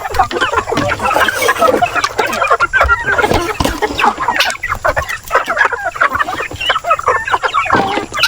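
A flock of chickens clucks and squawks busily up close, a dense, continuous chorus of overlapping calls.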